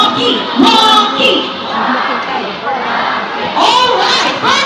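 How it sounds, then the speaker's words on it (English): An audience at a bird and sea lion show at Manila Ocean Park chants a name in loud, rhythmic bursts, several shouted waves of crowd voices rising and falling. "Come on, let me hear you say, Rocky! Rocky!"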